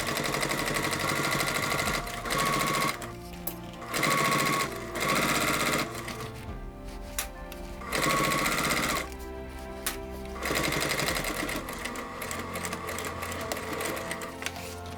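A sewing machine stitches vinyl and cork for a bag with a size 110 needle, running in loud rapid bursts with short pauses as it sews back and forth near a corner.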